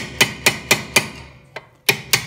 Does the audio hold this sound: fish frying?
no